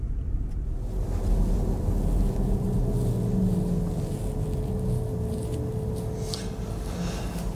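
An Audi Q4 electric car drives along with a steady low road rumble and wind noise inside the cabin, continuous and fairly loud, with no motor whine standing out and no talking.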